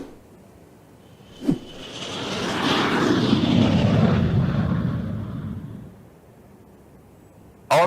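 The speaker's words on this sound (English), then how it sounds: "We need to send a plane for them." An airplane approaches and passes overhead, its engine roar swelling to a loud broad rush mid-clip and then fading, with a sharp thump near the start and another at the end.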